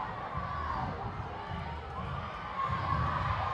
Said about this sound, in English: both these audiences from both the schools are cheering right now